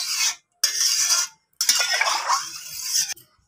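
A spatula stirs spices into hot water in a wok while goat meat cooks with papaya, giving three close scraping and clinking bursts separated by short silences, with no talking.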